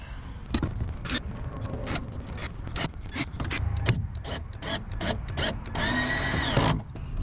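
A power tool drives bolts into the roof frame of a van, with repeated short mechanical bursts and clicks and a longer steady whir near the end, heard close with no talk.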